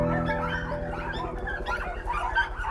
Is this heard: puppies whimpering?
yes